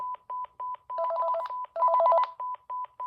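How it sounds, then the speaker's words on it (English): A Panasonic KX-TG5438F rugged cordless phone sounds its intercom tone: loud, evenly spaced electronic beeps with warbling two-tone trills between them, close and alone without voices. "So let's do the intercom. It's pretty loud."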